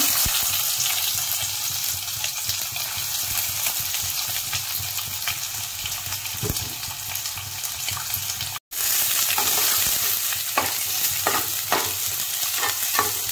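Onion sautéing with curry leaves and garlic for a Malvani-style clam curry, a continuous loud sizzle with occasional spatula stirs and one brief cut to silence midway.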